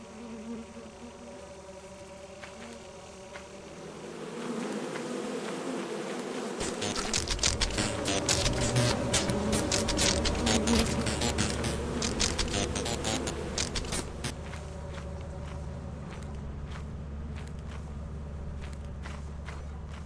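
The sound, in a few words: buzzing insects from beehives in a video game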